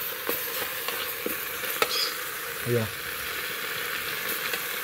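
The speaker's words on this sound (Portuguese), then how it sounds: "Estão vendo aí, ó, como ela tá fritando." Food sizzles and fries in a pan during Northeastern Brazilian home cooking, a steady close crackle running throughout, with someone briefly speaking over it.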